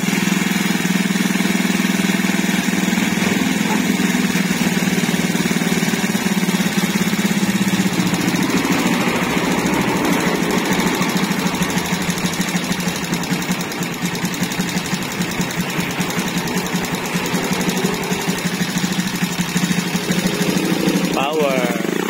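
Suzuki Raider J 115 Fi motorcycle with a 57mm bore idles steadily and close by for the whole stretch, a continuous even engine drone under occasional talk, its idle set high.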